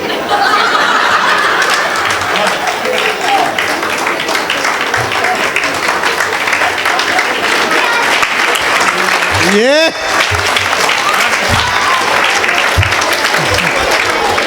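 Audience at a Hindi comedy poetry show clapping loudly and steadily, mixed with laughter and chuckles, with a brief voice sweeping upward near the end.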